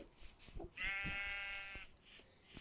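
Sheep in a Minecraft-style survival video game give one clear, loud wavering bleat lasting about a second, framed by faint game noises before and after.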